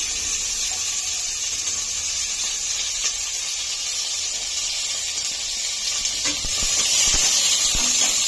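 Onions and curry leaves frying in hot oil for a capsicum curry, a steady bright hiss of sizzling that grows slightly louder near the end, close and continuous with no talking.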